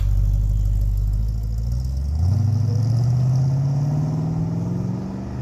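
A 1971 Ford XY GS Fairmont with a 351 V8 idles with a deep, loud rumble, then revs up and pulls away with a rising engine note as it drives off close by.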